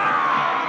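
An angry crowd of villagers in the 1974 comedy film Young Frankenstein roars in a dense, sustained mass of shouting voices, loud and unbroken for a brief moment.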